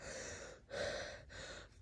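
Three strained, gasping breaths in quick succession, close and fairly loud, from a woman sick with Covid trying to take deep breaths, with brief pauses between each effortful intake.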